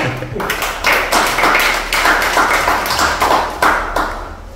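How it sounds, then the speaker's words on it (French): Rhythmic clapping from a church audience at an evening gathering in Toulon, sharp regular claps in a steady beat, fairly close and loud, with no speech over it. "Vous pouvez vous applaudir vous-même."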